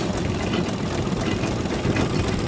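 A stationary engine at a farm heritage show chugs steadily as it drives a belt-powered wooden display, a close, continuous low rumble with a rhythmic thump and no voices.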